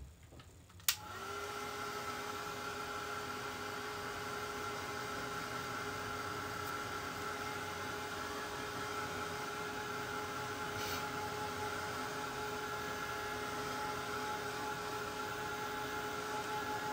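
Hair dryer clicks on and blows a steady, even whooshing hum for a long stretch while drying a watercolor painting, nearby and constant with no pauses.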